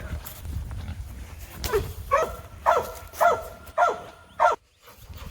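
A farm dog barks five times in a fairly even rhythm, loud and moderately close, over low rumbling background noise.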